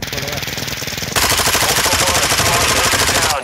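Rapid automatic gunfire in the video game DMZ fills the clip: dense, loud bursts that go on without a break and grow heavier partway through. A radio-style voice speaks under the shooting.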